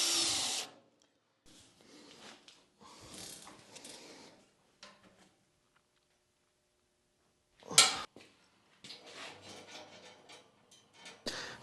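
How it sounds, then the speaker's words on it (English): A power drill bores holes in the steel frame of a homemade CNC plasma table built from junk parts. Several close, loud bursts of drilling are separated by pauses, with a sharp clank near the end. "Rather than weld these, I'm going to drill and bolt them"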